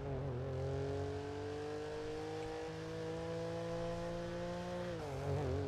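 A BMW M5 engine revs steadily and holds a high drone, then drops in pitch near the end.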